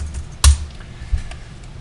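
Keyboard typing while entering a render command in 3D texturing software, with a sharp cluster of keystrokes early on and a softer tap later, close and clear with no talk.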